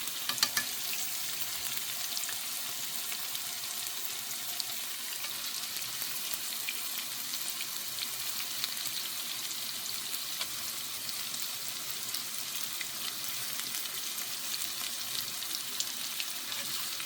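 Tofu and fragrant mushrooms sauté in a hot pan, giving a steady, even sizzle and frying hiss that runs unbroken throughout, close and moderately quiet, with no talking.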